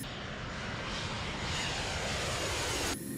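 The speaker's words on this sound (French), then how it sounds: "une fois que le F-28 a atteint son point de cabrage, L'avion venait tout juste d'atteindre une vitesse suffisante pour quitter le sol" A Fokker F-28 jet airliner taking off, a loud steady broadband engine roar that holds constant, then drops away sharply near the end; no talk.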